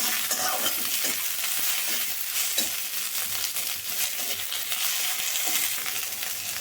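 Prawns fry in a small amount of oil, crackling in a dense, steady sizzle close by, with frequent spatula scrapes and stirring throughout and no voices.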